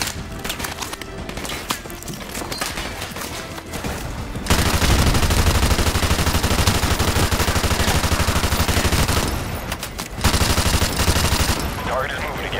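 Sustained automatic gunfire in Call of Duty: Modern Warfare Remastered, loud continuous bursts of rifle fire with brief lulls, heavy battlefield din throughout.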